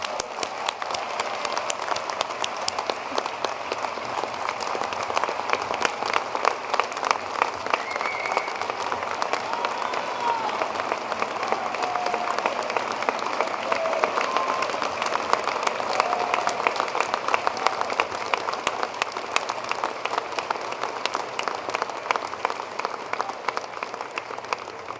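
Long, steady applause from a commencement audience honoring a medal recipient, a dense wash of many clapping hands that stays even and full throughout without letting up.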